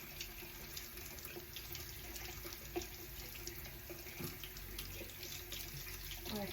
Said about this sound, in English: I'm just giving it another rinse